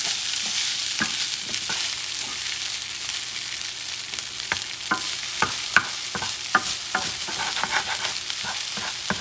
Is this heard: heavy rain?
no